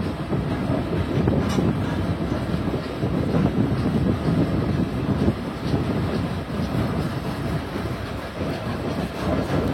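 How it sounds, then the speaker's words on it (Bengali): Loud continuous rumble of the Nakshi Kantha commuter train entering Srinagar railway station in Bangladesh close by, with rattling carriages and clattering wheels throughout. "বিশাল বিলম্বে শ্রীনগর রেল স্টেশন প্রবেশ করছে খুলনাগামী নকশিকাথা কমিউটার ট্রেন"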